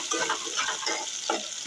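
Green chilli and tomato frying with onion in a pan, a soft, even sizzle broken by rhythmic stirring scrapes, close and without voices.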